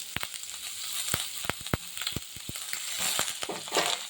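Pumpkin and eggplant frying while being stirred in a pan, heard as a moderate hiss under a string of sharp spatula taps and scrapes at uneven intervals.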